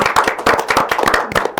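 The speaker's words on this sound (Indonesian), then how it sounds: "Boleh tepuk tangan dulu." A campus talk-show audience clapping, a dense, fast patter of many hands close by and loud throughout.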